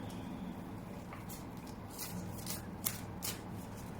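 Oracle cards being shuffled by hand for a tarot reading, a steady soft riffling and sliding of card stock with a few sharper flicks, close and fairly quiet throughout with no talking.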